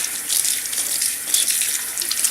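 Water runs steadily from a kitchen tap as potatoes are rinsed under it, a bright continuous hissing splash with small fluctuations, close and fairly loud, with no talking.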